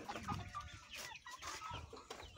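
Poultry, ducks and chickens, clucking and squawking close by in short overlapping bursts, busy farmyard calls with no speech.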